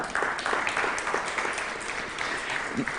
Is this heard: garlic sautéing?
no